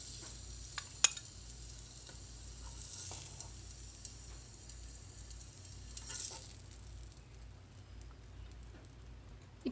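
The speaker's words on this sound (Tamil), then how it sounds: "இப்போ பாருங்கள், முட்டை ஓரளவுக்கு ஃப்ரை ஆகிடுச்சு." Eggs fry in oil in a pan for a dhaba-style egg curry, a faint, steady sizzle with a couple of light taps and clinks.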